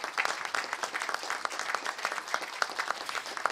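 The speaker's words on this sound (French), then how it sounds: "une bonne main d'applaudissements pour ces gens qui vous ont suivis" Audience at a university graduation ceremony gives steady, moderately distant applause, a continuous wash of many hands clapping throughout.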